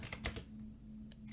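Quick bursts of clicks from a computer keyboard as a command is typed while setting up an Unturned game server, a cluster of keystrokes at the start and a few more near the end, close and fairly quiet.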